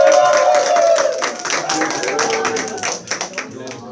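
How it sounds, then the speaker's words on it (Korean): A church congregation applauding during a Korean service: a burst of clapping from a gathered group, strong at first and thinning toward the end, with a voice partly audible over it. "박수 부탁드립니다."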